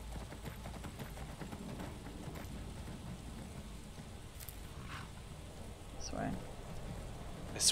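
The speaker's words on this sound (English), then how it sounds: "riding through the rain" Soft, steady rainfall patter in the video game Skyrim Special Edition, with faint distant rumbles and a few scattered clicks, quiet in the background.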